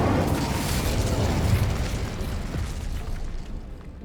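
An Incendio fire spell cast in Hogwarts Legacy on PS5 Pro flares up as a broad whooshing burst, a roaring rush that holds steady and then fades over a few seconds.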